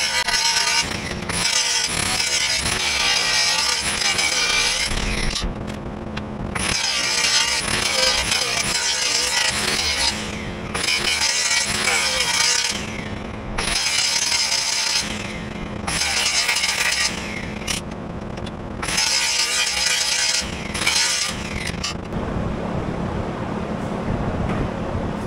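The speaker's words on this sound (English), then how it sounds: "I'm gonna grind the top washer off so I can slip the whole thing, you know, down." An angle grinder cuts through a welded top washer during a lean repair, a loud continuous harsh grinding that runs nearly unbroken with a few short pauses, close to the mic.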